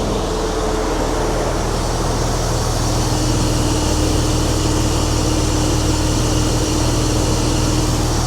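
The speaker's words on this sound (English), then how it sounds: "Engine still doing well." A Porsche engine idles steadily after repair work, a continuous low hum with a faint tonal drone, even and close throughout with no talk.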